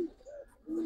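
Giribaz pigeons give a short, soft cooing call, two low throaty coos close together, heard alone at close range.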